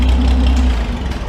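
A 1977 tractor engine idles smoothly and evenly, a close, steady low rumble that holds for the whole moment with no other sounds.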